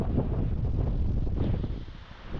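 Strong gusty wind buffeting the microphone outdoors under dark clouds before rain, a loud, close, continuous low rumble with rustling, easing slightly toward the end, no talk.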